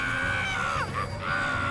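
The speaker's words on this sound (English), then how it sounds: "Yelling, Tsukasa flails his hands in a desperate attempt to get away." Tsukasa, a character in the video game Spirit Hunter: Death Mark, yells in pain in a short, strained cry whose pitch dips and recovers over a low background.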